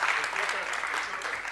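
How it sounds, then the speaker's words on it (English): An audience claps at a lecture, a dense, steady wash of applause lasting the whole moment, fairly loud and close, with faint voices mixed in. "Let's all give him a round of applause."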